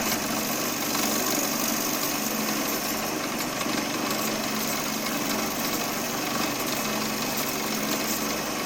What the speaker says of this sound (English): So these are the fibers that you get shear scraping